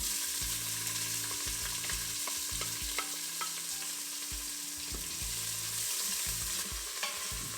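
Chopped onion stirred into hot spices frying in a pan for khichdi, with a continuous loud sizzle and repeated rhythmic scraping strokes of a spoon, close up with no talking.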